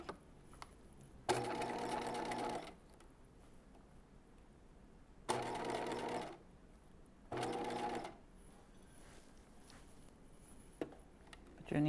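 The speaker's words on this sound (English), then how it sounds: "put your presser foot back down, and then stitch across that short edge" A sewing machine stitches a skirt in three separate bursts of steady, rapid mechanical whirring, close and fairly loud, with quiet pauses between runs.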